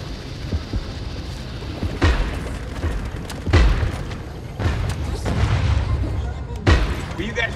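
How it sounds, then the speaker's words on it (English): Heavy booming thuds from torpedoes fired in the underwater shark game Depth, several deep low blasts spaced a second or two apart over a steady rumbling bed. "Will you guys quit shooting that stupid torpedo?"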